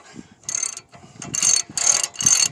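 A wrench ratchets in several quick clicking bursts while parts on a camper van are tightened, close and crisp with short pauses between strokes.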